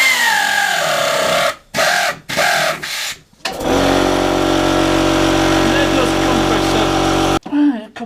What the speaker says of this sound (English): Compressor stopped, I can carry on.